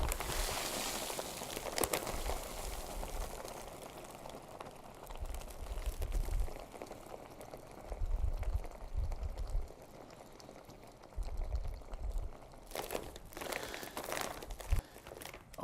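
Dry ice mixed into a homemade comet is squeezed together by hand, giving irregular crinkling and crackling bursts with some low bubbling fizz, fairly quiet and close, with no talk.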